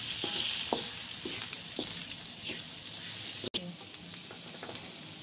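Curry powder fries in a pan with chili padi while cooking Kam Heong crabs, a close, continuous oil sizzle with light scraping stirs and a brief sharp dropout near the middle, no speech.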